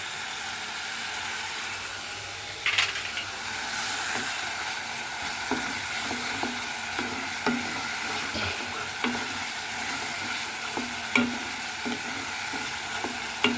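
Turmeric and chili powder fry in oil in a pan for a kidney bean curry, making a constant bright sizzle while a spoon scrapes the pan in regular, repeated strokes.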